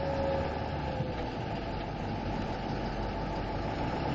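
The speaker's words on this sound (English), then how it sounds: "take a listen to the sound of the engine here" A 2006 Ford F550 truck engine while driving on a residential street, a steady low rumbling drone heard from inside the cab, continuous and moderately loud.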